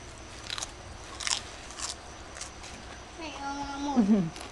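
Stir-fried instant noodles with egg and hot dog being eaten: crisp biting and chewing sounds come in close, scattered bursts, followed by a voice talking near the end.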